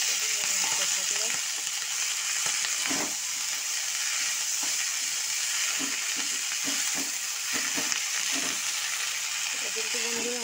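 Fenugreek greens frying in oil left from fried fish heads with chilli powder, a dense steady sizzle with intermittent stirring scrapes and clicks close by, and faint speech at moments.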